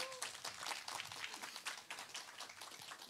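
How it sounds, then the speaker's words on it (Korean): Audience applause at a traditional Korean daegeum flute concert, a dense, steady wash of many hands clapping heard from a distance and at low level, lasting the whole stretch. "박수 한 번만 더 부탁드리겠습니다"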